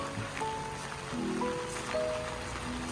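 Morning rain falls on a garden near Chiang Mai in northern Thailand, a soft, steady patter heard faintly and evenly throughout, with no one speaking.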